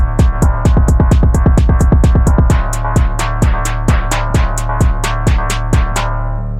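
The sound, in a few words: basic Phonk beat made in FL Studio 21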